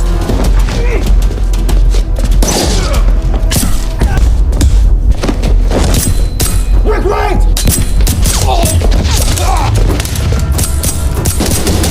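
A film shootout erupts in a loud, dense mix of gunfire bursts, booms and thuds over a heavy low rumble, with scattered crashes and a voice talking over the action.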